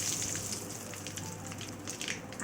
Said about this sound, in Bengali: এই যে তেলের ভিতরে সরিষা, পাঁচফোড়ন আর শুকনো মরিচ দিয়ে একটু ফোড়ন দিয়ে নিয়েছি